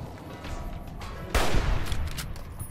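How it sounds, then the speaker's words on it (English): A hunting rifle fires once in the Fallout game, a single sharp loud crack that jumps out of quiet background and trails off in a short rumbling decay. "hunting rifle"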